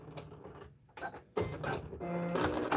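A sewing machine stitches a fabric bowl cozy in short bursts of quick mechanical whirring and needle clatter, close up, with brief pauses and a back-stitch between runs.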